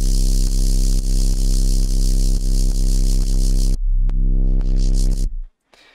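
A loud, gritty distorted 808 bass synth drones with rhythmic retriggers, then slides through a few shorter notes before fading out at the end.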